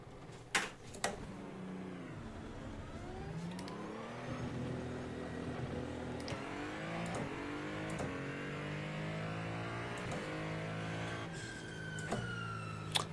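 A Ferrari race car in a sim racing game, its engine revving up and down through gears with rising and falling whines, a few sharp clicks at the start and end, and a steady close engine drone throughout.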